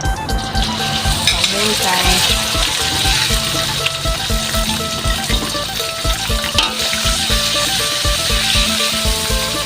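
Pork and garlic being stir-fried in a pan, a loud, continuous close sizzle with busy stirring and scraping over steady faint tones underneath, no voices.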